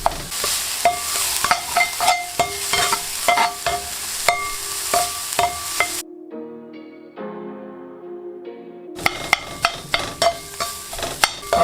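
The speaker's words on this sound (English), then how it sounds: "Just chop off those vegetables and the meat and let it cook for around 2 minutes." Chopped vegetables and meat cooking in a skillet: loud sizzling broken by repeated sharp scraping and tapping of a utensil, then a brief quieter gap with soft tonal sound before the sizzle and tapping resume.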